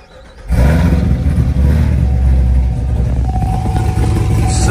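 A modified Corvette ZR1 with an aftermarket cam, tune and pulley bursts into a loud, rough revving roar after a brief quiet moment, holding a choppy, lumpy idle-like throb close by.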